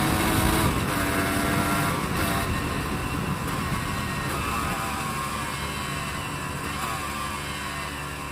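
A Honda CRM 250 AR two-stroke motorcycle being ridden hard, its engine a loud, continuous, raspy drone close to the microphone, mixed with wind rush and no speech.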